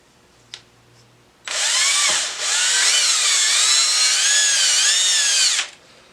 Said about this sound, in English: it was incredibly easy to drill through, and it landed me right on the pith on the other side.